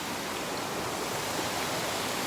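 Yellow Creek Falls pours in a dense, unbroken rush of white noise, loud and close, with no voices over the steady roar.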